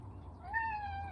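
A house cat gives one drawn-out meow, rising and then holding a steady pitch, moderately close but fairly soft over a low indoor hum, with no one speaking.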